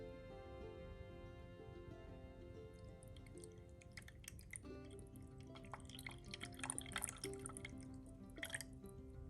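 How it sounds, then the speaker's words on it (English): Cold water poured from a tap into a pan sitting on kitchen scales while making choux pastry, a steady soft trickle with splashy drips building louder in the second half, close by with no talk. "I'm going to make sure I only measure in 150 ml of cold water"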